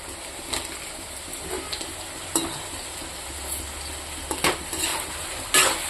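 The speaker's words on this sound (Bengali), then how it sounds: "এটা দিয়ে আমি কিছুক্ষণ ভাজবো। দেখুন বন্ধুরা, তরকারিটা ভাজা হয়ে গেছে।" Vegetable curry with potato and stalks frying in a pan, heard as a faint, steady sizzle under scattered sharp scrapes and clinks of stirring, a few louder ones spaced through the clip.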